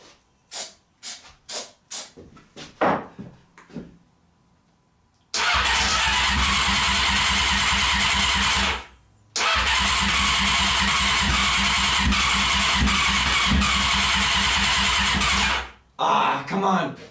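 A Honda CBR600 motorcycle engine cranks in two long, loud bursts of starter whirring that fail to catch, separated by a brief pause and preceded by several short clicks.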